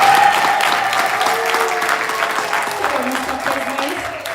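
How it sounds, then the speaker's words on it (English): Loud, sustained audience applause at a town hall gathering of the African diaspora in Chicago, dense clapping close and full throughout with a faint tone running beneath it. "Ngatukulinda, give him a hand of applause."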